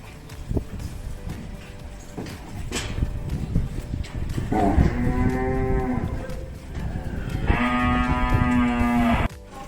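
A pregnant Charolais cow being loaded onto a truck gives two long, loud, close moos over a background of shuffling hooves and rattling.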